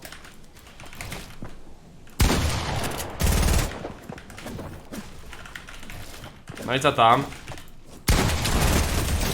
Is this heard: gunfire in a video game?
yes